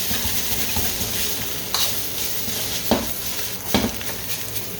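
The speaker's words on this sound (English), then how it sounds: "Try to break all the grains apart. Keep throwing it up in the air to dry it off a bit." Fried rice stir-fried in a wok over high heat, with a steady close sizzle and scraping, stirring clatter throughout and a few sharper metallic hits as the grains are tossed.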